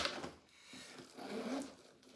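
A zipper on a Tefors 48Hr Switch travel bag is drawn along in a few short, raspy pulls, close by and fairly quiet, with no talking.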